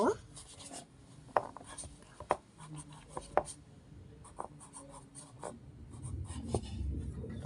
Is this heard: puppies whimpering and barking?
no